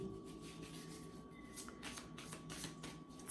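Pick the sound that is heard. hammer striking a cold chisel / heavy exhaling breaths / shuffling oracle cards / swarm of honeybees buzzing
shuffling oracle cards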